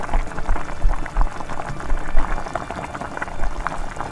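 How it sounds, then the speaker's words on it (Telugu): A simmering lauki and carrot kofta gravy with garam masala bubbles as a paste of three blended tomatoes goes in. Soft, irregular liquid plops and bubbling sound close by at moderate volume, with no talk. "మూడు టమాటాలు మిక్సీ పట్టిన పేస్ట్ని కూడా వేసేసుకోవాలి."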